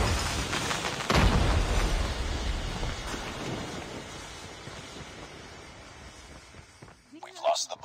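A grenade explodes in Call of Duty Mobile, a sudden loud blast that rolls into a long rumbling decay before fading out.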